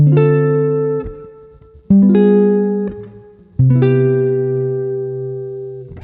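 Three sustained guitar chords forming a 2-5-1 progression, voice-led higher up the neck, ring out one after another, each strummed and left to decay, smooth and clean with no voices.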